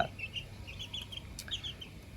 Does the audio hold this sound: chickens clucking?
yes